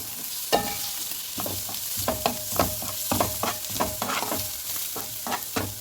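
Spices toast in hot oil with wilted onion and garlic, a steady sizzle under repeated scraping stirs of a spoon against the pan, close and alone without talk.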